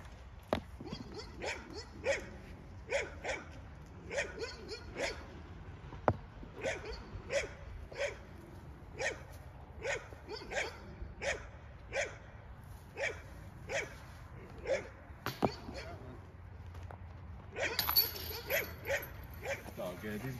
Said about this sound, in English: These guys are gonna bark regardless.